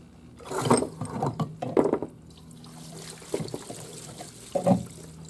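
Water from a hose splashes and trickles while washing out an old DR Field & Brush mower gearbox, coming in irregular close bursts with quieter dribbling between.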